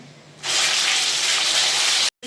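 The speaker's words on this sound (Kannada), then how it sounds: "ಈರುಳ್ಳಿ ರುಬ್ಕೊಂಡಿರೋದನ್ನ ಹಾಕೊತಿದ್ದೀನಿ." Ground onion paste drops into hot oil already holding cinnamon, cloves and cardamom, and a loud, steady sizzle rushes up and holds for about two seconds before cutting off abruptly.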